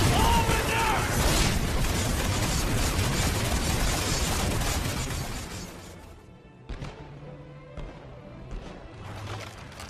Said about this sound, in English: Those explosions just now?